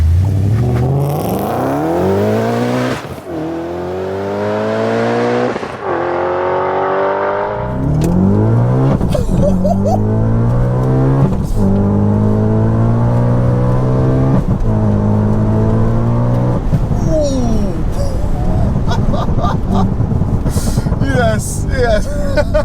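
Supercharged 629 bhp Audi RS4 accelerating hard through the gears, engine note climbing repeatedly with loud, close revs and brief dips at each gear change, supercharger whine on top.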